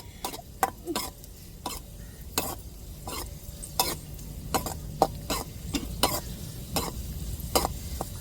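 Cashew nuts fry in a pan for milk payasam under a low, steady sizzle, punctuated by sharp, irregular clicks and taps of a spoon stirring against the pan.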